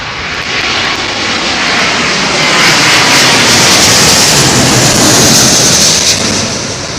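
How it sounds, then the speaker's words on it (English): A Thai Airways airliner passes low overhead on approach to Heathrow runway 27L, a loud jet roar that builds, peaks and eases over several seconds, heard alone without speech. "I just see Alan Tomkinson, Thai Airways."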